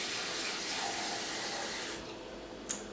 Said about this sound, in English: You get a little bit of water like this.